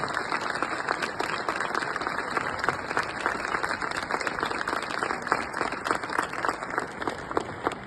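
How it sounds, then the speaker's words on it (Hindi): Loud, sustained applause from an audience at a Republic Day school performance, with dense, crackling claps in a steady patter that carries on for several seconds without talk. "उन दोनों लोगों के लिए इतनी जोरदार ताली बजे"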